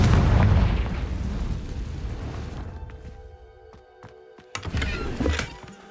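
A Confringo blast spell in the Hogwarts Legacy video game erupts as a loud booming burst that rumbles and fades over a few seconds, followed by scattered crackles and a second smaller flare near the end.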